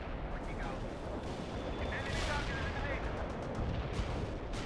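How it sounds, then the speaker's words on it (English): Artillery and gunfire rumble in the World in Conflict video game, a dense, continuous battlefield barrage of booms and shots with faint radio-style voices mixed in. "Heavy artillery strike fired."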